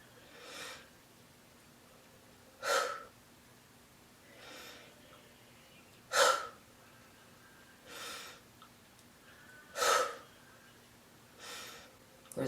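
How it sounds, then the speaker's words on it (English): Forceful breaths during a kriya meditation, heard as six or seven loud, rushing bursts at a steady interval of about two seconds, with quiet pauses between them and no talking. "Now try to breathe powerfully."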